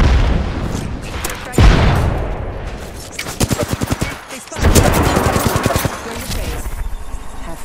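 A frag grenade blast and rapid gunfire from the video game Apex Legends, with a loud thumping explosion followed by fast rattling bursts of automatic fire and a second heavy boom, all close and dense.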